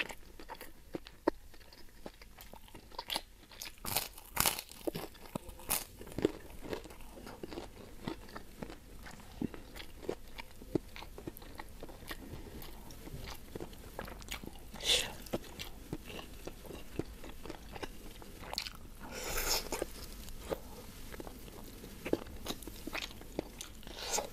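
Someone chews fried chicken with sambal pecak, the chicken first simmered in spices until tender, making quiet, close, irregular crunches and bites that come in short bursts over a low background.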